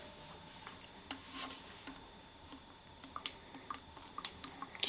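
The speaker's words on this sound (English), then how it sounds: "So I'm just kind of drilling a little hole, not pushing too hard" A small drill bit working a hole into an aluminium Arizona Tea can: faint scraping and rasping with several sharp, brief ticks near the end, close but quiet.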